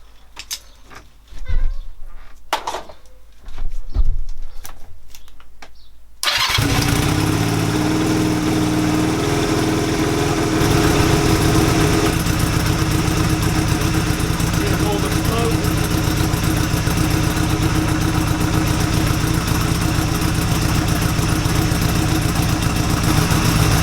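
A Honda CB250 scrambler motorcycle engine with a freshly wrapped exhaust fires up after some clatter and handling noises, then settles into a loud, steady idle for the remaining time.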